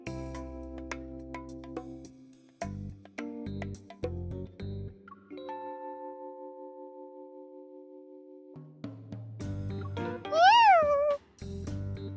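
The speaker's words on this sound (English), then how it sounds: "Where did that cat come from?" Cat meowing in a video game scene: one clear, rising-and-falling meow near the end, loud and close, following character dialogue, music and game effects.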